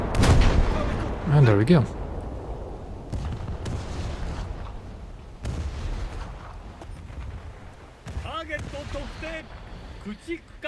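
Ship's guns firing in a naval battle video game, a few heavy booming shots near the start with rumbling aftermath, followed by quieter battle noise while someone talks over it.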